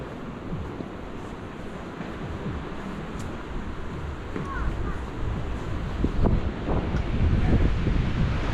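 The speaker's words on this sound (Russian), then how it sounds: "Да, ветер только." Wind buffets the microphone while riding an e-bike through Vorontsov Park in Yalta in February: a constant low, rough roar that grows slightly stronger toward the end, with faint scattered outdoor noises.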